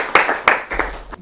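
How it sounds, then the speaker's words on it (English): A few scattered claps in quick, sparse bursts, close by and fairly loud, more like a small group starting to applaud than a full ovation. "A round of applause for Deborah."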